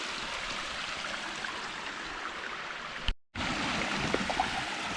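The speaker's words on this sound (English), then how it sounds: "This is the next waterfall there." A waterfall and stream on the Swayze Falls loop trail in Short Hills give a steady, moderately distant rushing wash of flowing water, broken by a brief dropout partway through.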